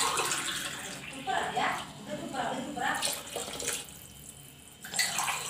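Water pours steadily into a pressure cooker of rice for vegetable biryani, splashing and gurgling close by, with a brief break and resuming toward the end.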